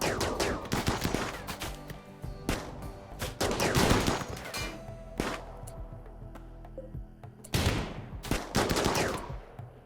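Repeated bursts of gunfire in RimWorld, rapid crackling volleys and single sharp shots arriving in clusters, loud and close, alone without talk.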